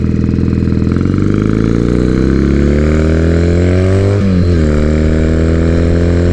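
Harley and Triumph motorcycle engines, loud and close, idling with a steady throb, then pitch rises and drops as the bikes are ridden slowly and parked.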